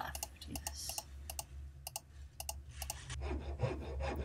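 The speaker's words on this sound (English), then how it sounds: "Sound of sawing." Rhythmic sawing strokes in the Nancy Drew game Treasure in the Royal Tower, a run of short rasping pulses that then blends into a steadier, busier scraping texture, fairly quiet with no talk over it.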